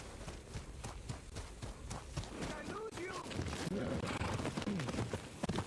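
Horse hooves gallop in the video game Ghost of Yotei, a quick run of clip-clop beats with a fuller, busier second half and brief voices mixed in.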